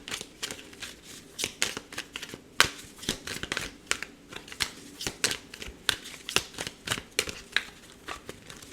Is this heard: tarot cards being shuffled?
yes